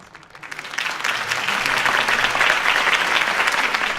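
Crowd applause rising after a campaign speech in Batman: The Telltale Series, swelling within the first second into steady, dense clapping that holds to the end.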